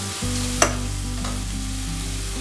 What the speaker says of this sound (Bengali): এখন আমি দিয়ে দেব এখানে রসুন এবং কাঁচা লঙ্কার যে একটা পেস্ট করে রেখেছিলাম, সেটা দিয়ে দিলাম এখানে